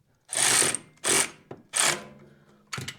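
A bolt being installed and snugged during drivetrain work on a 1971 Cadillac DeVille, heard as several loud, close bursts of power-tool whirring separated by short pauses.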